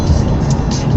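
Another car overtakes on the inside while driving on a road, heard as a steady, loud engine and tyre rumble with a brief rise as it goes past.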